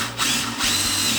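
A power drill with a 9/32 bit whines steadily as it bores bolt holes through mounting brackets for MAXTRAX recovery boards on a Cargo Pod XL, a short close burst with a brief dip in motor pitch.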